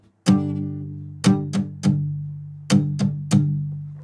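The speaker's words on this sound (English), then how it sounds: "you will get the deadened version of a strum when you palm mute it" Palm-muted guitar strums played near the bridge, six short, deadened chord hits with quick decay, spaced irregularly and heard alone up close.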